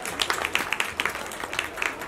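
Audience applause at a grand opening event at The Emporium, a modest crowd clapping in a quick, uneven patter, moderately faint and steady for a couple of seconds.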